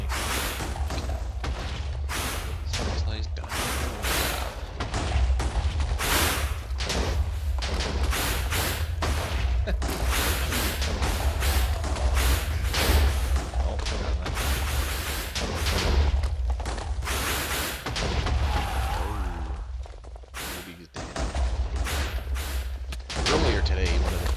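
Minecraft combat against withers with many players: dense, continuous booming explosions and blasts, loud and overlapping for the whole stretch, with a voice occasionally talking underneath.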